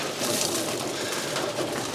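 Racing pigeons cooing together inside a loft, a dense, steady murmur of overlapping calls close by with no pauses.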